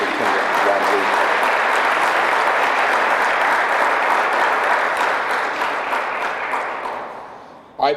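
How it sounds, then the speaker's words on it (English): A large audience applauds loudly and steadily for a school superintendent at a STEM opening-day event, the clapping sustained and dense before tapering off near the end. "let's give a big round of applause to our superintendent, Ron Lee"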